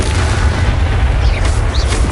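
A Bombarda or Confringo spell explodes in the Hogwarts Legacy video game, a loud, sustained booming blast with a rumbling low end and no talk.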